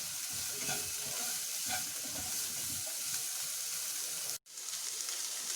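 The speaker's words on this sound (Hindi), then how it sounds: "1/2 टीस्पून गरम मसाला, चला दीजिए सबको अच्छे से" A spoon scrapes and stirs spiced mushroom stuffing sizzling in a kadai, a steady close frying hiss with rhythmic stirring strokes and a brief break near the end.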